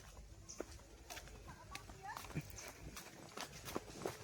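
Horse hooves clip-clop faintly and irregularly around a farm, scattered steps mixed with bird calls while people talk nearby.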